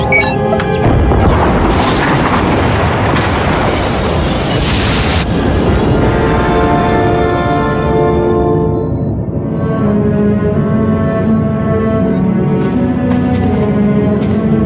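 Pod bays being destroyed in a sci-fi video game, with a loud, sustained rumble of explosions and crashing debris that tapers into a droning hum, dense and continuous throughout.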